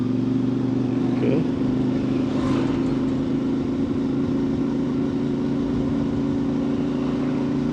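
A CFMoto 450 MT motorcycle ridden at about 30 km/h in second gear, its engine humming in a steady low drone with smooth, even throttle, close by, under wind noise.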